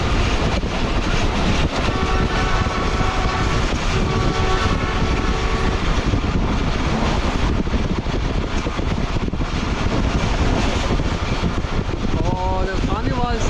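Shalimar Express passenger train running at speed on smooth main-line track, a loud steady roar of wheels and carriage rumble with faint clickety-clack and brief whining tones throughout, a voice talking over it.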